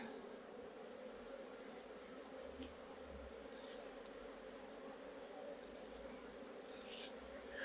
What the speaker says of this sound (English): the bees are being very loud